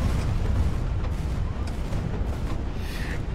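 Ship artillery explosions in the naval combat game HighFleet: a continuous barrage of deep booms and rumbling blasts, loud and overlapping with no gaps, with sharper cracks now and then.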